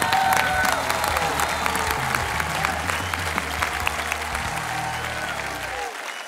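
Studio audience applauding on a children's singing TV show, a dense sustained clapping that fills the room evenly before fading out near the end, with a voice briefly underneath.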